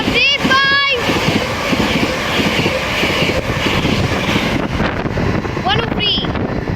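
A ScotRail Class 385 electric train rolls through Lenzie station on the Glasgow Queen Street to Edinburgh line, a steady loud rumble with wind buffeting the microphone, a few squeals near the start and end.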